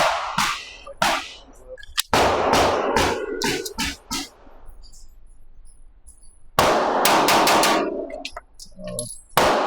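An SCCY DVG-1 9mm pistol fires in quick bursts outdoors, each shot a loud, sharp crack. Several rapid strings of shots are separated by brief pauses.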